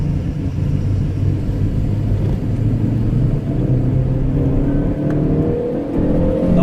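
A 2008 Ford Focus with a 1.6 flex-fuel engine accelerates on the road, its engine note rising loudly and steadily through the revs with a whirring drone, heard from inside the car.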